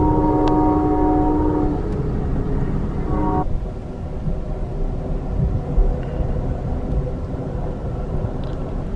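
A freight train rolls past a railway station stop on the Amtrak Empire Builder route in Montana, a steady loud rumble throughout with a sustained horn-like tone early on that cuts off after a few seconds.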